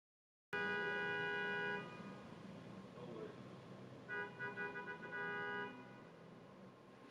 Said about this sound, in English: I am about to murder whoever is honking out there.